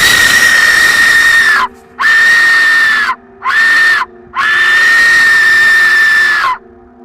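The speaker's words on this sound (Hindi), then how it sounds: "कहते हैं कि इस डेथ विसल को बजाने पर चीखते हुए इंसानों की" An Aztec death whistle gives four loud, shrill, scream-like blasts, each a few seconds long, with short silent gaps between them and a harsh hissing edge.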